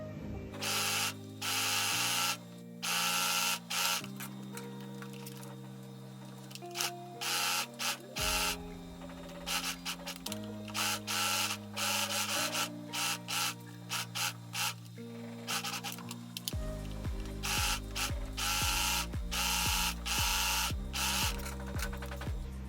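Sewing machine running in bursts of rapid mechanical whirring as it stitches a side seam to the hem of a one-shoulder maxi dress, pausing briefly between runs, close and alone.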